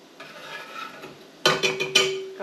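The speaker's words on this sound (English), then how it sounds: "Got my peppers going in. Give these a stir." Spoon stirring sautéing peppers in a large stock pot, a few sharp scraping clatters in quick succession over a faint sizzle, close and clear.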